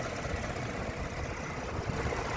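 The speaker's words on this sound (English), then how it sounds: "this engine right here, it pulls, makes power great. It sounds really good." A 2018 Chevrolet Camaro LT V6 with a tuned exhaust idles steadily nearby, a low, even rumble with a faint mechanical rattle and no talk.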